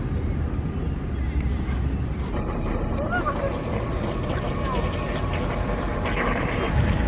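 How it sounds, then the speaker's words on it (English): A Flytec V500 remote control fishing bait boat runs on water with a steady, faint motor hum and wind noise, a voice talking over it. "here we launched the V500 upgrade version fishing bait boat"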